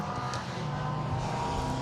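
Rally cars race past on a forest stage, a Ford Fiesta being overtaken by a Subaru Impreza, engines droning close and loud in a steady blur of revving with faint tyre noise.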